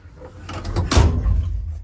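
The cab door of a Stewart & Stevenson military truck is pushed open, a short mechanical clunk and rattle of the latch followed by a heavier thud near the microphone, over about two seconds.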